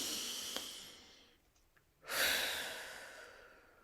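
A person takes slow, deep breaths, a long exhale fading out, a quiet pause, then a strong inhale rising sharply and tapering off, close and alone with no talk.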